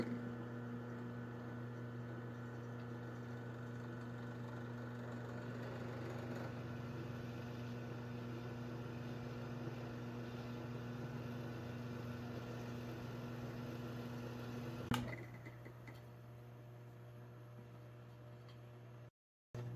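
A drill press runs with a steady mechanical hum while drilling a lanyard hole through a survival tomahawk handle, constant and fairly quiet, with a brief sharp bite near the end before the motor winds down.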